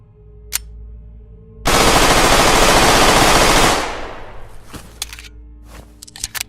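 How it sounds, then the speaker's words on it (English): Rapid automatic fire from a G18C machine pistol in the open-world survival shooter Dead Matter: one loud, dense sustained burst of about two seconds, then a ringing tail and scattered clicks and handling noises. "The G18C, a rare, late-game weapon that must be looted from a bunker."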